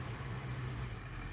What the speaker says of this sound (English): Idling is pretty good.